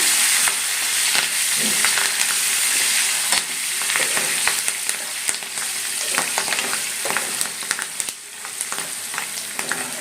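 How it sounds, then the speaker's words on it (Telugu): Curry leaves frying in a mango pulihora tempering hiss and crackle loudly in a pan, a dense continuous sizzle punctuated by sharp pops and stirring scrapes, with no one talking. "కరివేపాకు యాడ్ చేసుకొని ఒక్క 1 మినిట్ ఫ్రై చేసుకుంటే సరిపోతుంది."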